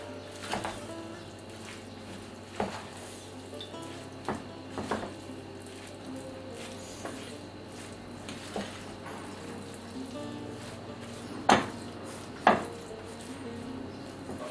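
A spoon stirs stuffed pepper filling with salt, chili flakes and black pepper in a pot, giving irregular metallic clinks and scrapes over a soft background hiss, with about ten distinct taps spread across the stretch.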